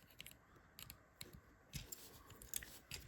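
Small scissors snip at a plastic part of a Transformers x Hot Wheels Twin Mill toy, giving quiet, close, irregular clicks and cuts.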